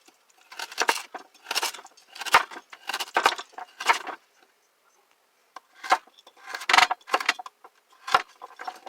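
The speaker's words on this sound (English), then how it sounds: "So I just put them alongside each other and cut them in rounds." A knife chops carrots into rounds on a cutting board in a home kitchen, giving sharp, close taps in quick bursts with a short pause midway and no talk.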